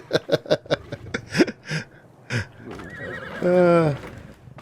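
Several horses whinnying loudly inside a structure in the video game ARK: Ragnarok, a series of sharp neighs followed by one long, drawn-out whinny, with faint hoof clops and a voice talking between the calls.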